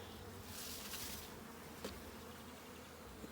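Honeybees hum steadily around an open hive during an apiary inspection in Ballachulish, a continuous close buzzing drone with no speech.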